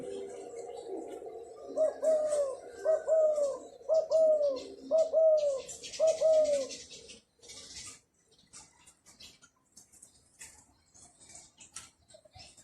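A dove coos in a run of five rhythmic, evenly spaced calls, close and clear, followed by softer rustling and faint chirps as the calls stop.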